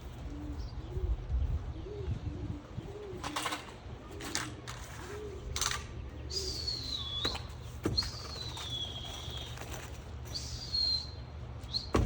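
Pigeon chicks and adult pigeons cooing softly in a loft, repeated low rolling coos over a quiet background, with occasional flapping, clatter and higher chirps nearby.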